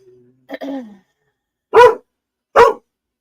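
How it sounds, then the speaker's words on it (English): A dog barks twice, loud and close, in two short separate bursts after a brief whine or yelp, in an otherwise quiet indoor room. "He picked the most inopportune times to bark at every noise going on."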